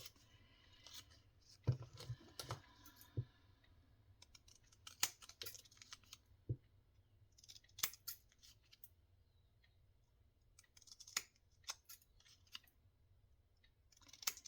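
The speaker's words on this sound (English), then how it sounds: "These are hairdresser thinner hair thinning scissors." Hair thinning scissors snipping through paper craft tags, giving a quiet, irregular series of sharp clicks and snips with soft rustling between them.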